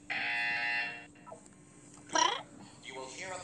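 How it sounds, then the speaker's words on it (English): A steady electronic buzzer tone in the video game Portal 2 sounds for about a second, followed by brief voices and softer tonal blips. "You will hear a buzzer."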